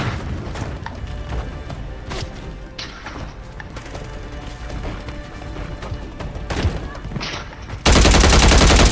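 Rapid gunshots fill a first-person shooter video game match, dense and continuous, with sharp individual cracks and a sudden loud blast near the end.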